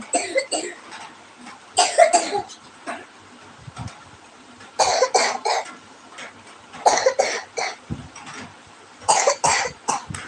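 Repeated bursts of coughing come in clusters separated by short pauses, fairly close and loud, with some throat-clearing sounds between fits.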